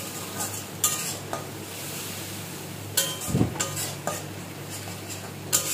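Spice paste sautéed with kundri (ivy gourd) in a pan: steady low sizzle with scattered scraping clinks of a spatula against the pan, one heavier clatter midway, no voices.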